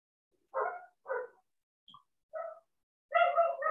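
Dogs bark in short separate bursts, about four single barks followed by a longer, denser volley, sounding faint and somewhat distant against an otherwise quiet background.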